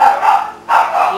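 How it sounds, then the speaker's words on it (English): A puppy gives two quick, close yaps in a home, each bark sharp and loud with a short gap between them. "Hear that puppy?"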